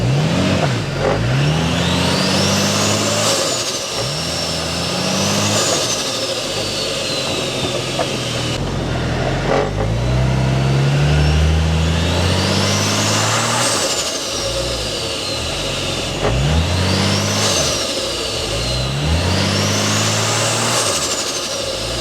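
A car with a turbocharged Barra engine revs repeatedly up close, each sharp rise in pitch followed by a fall, with a whistling turbo spooling over the engine note and brief lulls between the revs.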